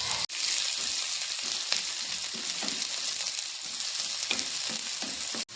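Chopped garlic fries in hot oil in a pan, a steady, fairly loud sizzle with occasional stirring clicks and scrapes running throughout.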